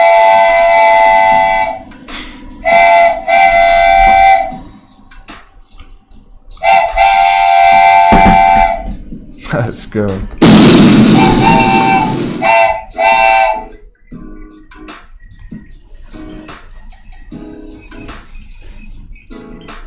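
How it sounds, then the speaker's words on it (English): A train pulling out of a station sounds repeated loud whistle blasts in short bursts among clanking, hissing rail noise, with a brief spoken phrase partway through. "Train's leaving the station. All aboard."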